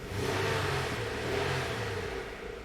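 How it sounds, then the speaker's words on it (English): A 2006 Honda Odyssey engine runs steadily nearby, a smooth mid-pitched hum that swells slightly as it revs, with the battery warning light staying on. "as you can hear, the engine is running"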